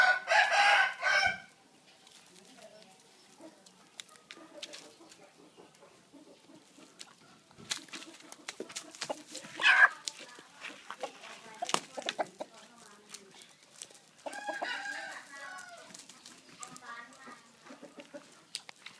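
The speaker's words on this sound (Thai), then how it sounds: "ดูเป็นไก่ขยันมาก" A rooster crows loudly at the start, followed by scattered chicken clucks and farmyard noises as a big and a four-month-old small gamecock spar, with another crow partway through and some background activity.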